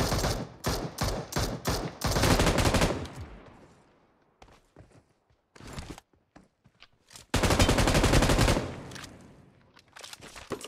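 Bursts of rapid gunfire in PUBG Mobile crack close and loud in quick volleys, fade into echo and faint footsteps, then return as another sharp, dense string of shots.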